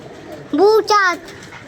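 Two short, soft cooing calls from a pigeon close by, each a brief throaty warble with a slight gap between them.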